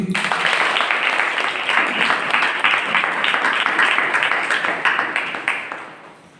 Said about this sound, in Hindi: इस समय हम अपने परमेश्वर के लिए ताली बजाएंगे